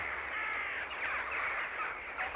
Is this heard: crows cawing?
yes